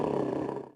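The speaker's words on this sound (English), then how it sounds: "Now, for Mr. Bengal Tiger." A Bengal tiger in the Zoo Tycoon video game gives one short, mid-loud roar under a second long that fades out at the end.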